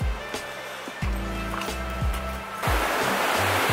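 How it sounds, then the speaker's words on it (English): Running water near the Lunch Falls trail in Ketchikan, a steady broadband rush heard close and continuous throughout, with thumping wind or handling noise at the low end and no talking. "It's one of my favorite sounds"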